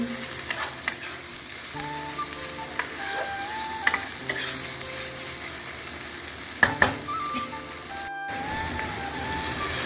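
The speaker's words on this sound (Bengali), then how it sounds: "ভালো করে এবার মশলাটাকে কষিয়ে নেব।" Spice paste for a Bengali-style chicken curry with potatoes is sautéed in a pan, giving a steady sizzle, with scraping spoon strokes and a few sharp clinks, and no talking.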